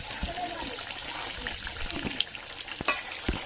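Country chicken curry cooks in oil, without added water, in a pot on a clay stove. A close, steady sizzle runs throughout, broken by occasional stirring clinks and pops, with a voice faintly under it.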